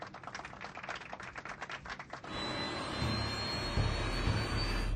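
Airliner jet engines spooling up to takeoff thrust, an initial rattling clatter giving way to a steady, rising broadband roar inside the cabin.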